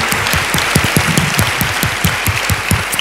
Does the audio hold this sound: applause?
yes